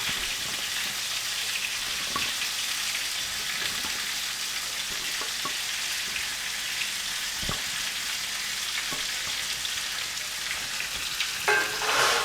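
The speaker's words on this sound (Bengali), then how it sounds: "এগুলো দিয়ে আমি 1 মিনিট মতো এগুলো একটু নাড়াচাড়া করে নেব" Continuous loud sizzling of potato, papaya, drumstick and green banana frying in a pan, with occasional scrapes and taps of stirring throughout.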